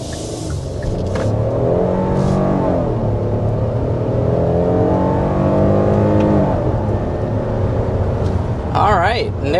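A 2024 Hyundai Palisade Calligraphy SUV engine revs up and pulls hard toward 60 mph, a steady loud rising drone that holds throughout, with a brief chirping sound near the end.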